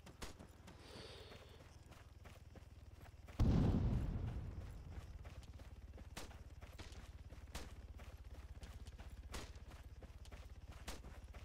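A single heavy gunshot booms in the Arma 3 combat game and rolls away in a decaying tail, with faint clicks and small rattles scattered through a quiet background.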